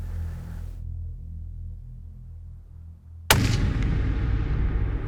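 One loud, close rifle gunshot during an antelope hunt in Wyoming, a sharp crack followed by a long rolling echo, after a quieter stretch of outdoor ambience.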